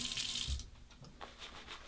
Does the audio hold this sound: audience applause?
no